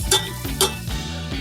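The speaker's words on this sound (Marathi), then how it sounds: "तर आता हे चांगलं भाजून घेऊ." Onion and tomato roasting in a pan with whole spices, giving a soft, steady sizzle with two quick scraping strokes of a spoon near the start.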